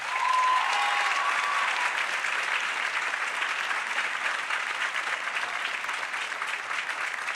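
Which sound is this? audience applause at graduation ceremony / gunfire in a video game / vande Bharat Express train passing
audience applause at graduation ceremony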